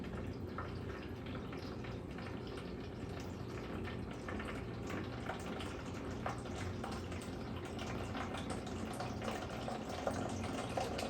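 Home-brewed summer wheat beer drains from a vessel with a soft, continuous trickle and faint dripping, a quiet steady liquid flow with no talking.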